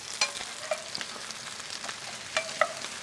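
Butter-basted steaks sizzle on a Blackstone flat-top griddle, a steady close crackle with a few sharper pops and spatters standing out over the constant frying hiss.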